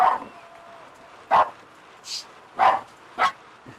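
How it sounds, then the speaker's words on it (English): Several dogs bark in short separate bursts along a road during a time-trial cycling race, fairly close, about four or five barks over a few seconds with quiet road noise between. "dogs are going crazy."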